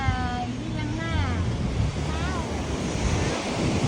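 Ocean surf rolls and washes steadily onto the beach at Gosong Telaga in Aceh Singkil, with wind buffeting the microphone and people talking and calling nearby over the waves.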